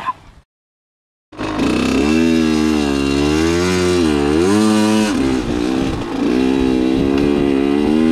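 Dirt bike engine starts up after a brief silence and runs loud and close, its pitch rising and falling through several revs before settling into a rough steady idle.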